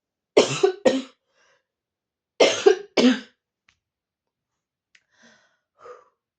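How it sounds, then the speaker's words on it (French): Two pairs of sharp, close coughs, each a quick double burst, separated by a short pause, followed by faint breathing. "C'est juste la toux que ça me reste encore."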